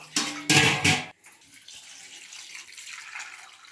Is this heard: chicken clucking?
no